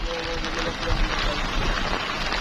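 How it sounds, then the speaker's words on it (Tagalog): Steady rain from a typhoon hissing across the whole clip on Polillo Island, with voices and faint tonal sounds underneath. "Ang ulan!"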